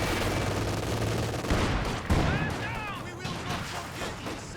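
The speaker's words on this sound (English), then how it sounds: "Here comes the machine gun now for Rometh" Machine gun fire rattles in the real-time strategy game Company of Heroes 2, bursts of gunfire and explosions mixed with battle noise while a voice commentates over it.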